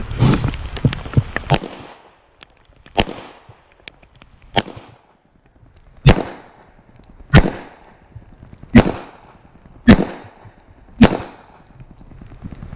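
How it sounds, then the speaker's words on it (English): Gunshots from a Springfield Armory 1911 pistol firing jacketed hollow point carry ammunition, a rapid burst of close, loud reports followed by single sharp shots spaced about a second apart, with no talking. "So we're going to start shooting here"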